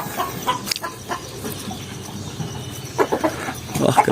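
A farm hen clucks in short scattered bursts near a brood of chicks, fairly close over a rustling, noisy coop background, with a louder flurry toward the end.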